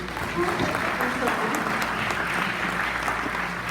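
A crowd at a website showcase gives a round of applause, a steady, moderately loud wash of clapping throughout, with voices mixed in.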